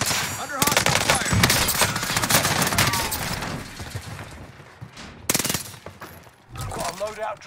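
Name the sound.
gunfire in Call of Duty Warzone video game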